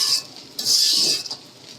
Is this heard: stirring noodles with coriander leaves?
yes